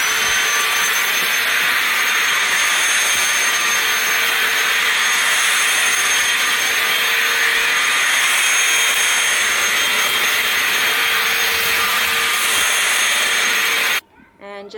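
A vacuum cleaner runs steadily indoors, a loud continuous roaring whine held for many seconds before cutting off abruptly near the end.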